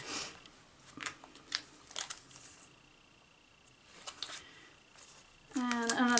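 Scissors snip through small paper frames for a scrapbook mini album, a few sharp crisp cuts and rustles scattered under quiet talk, with a brief higher clattering burst at the end.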